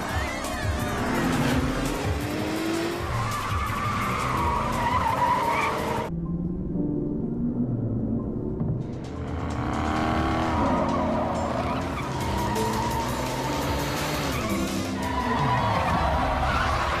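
Cars racing in a film with loud, continuous engine roar and screeching tire skids, broken by a brief dip in sound before the revving and squealing return full force.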